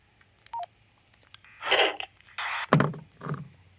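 Baofeng handheld radio keypad being hand-programmed: a few short electronic beeps from key presses, followed by louder bursts of radio noise and hiss, close and with no talk.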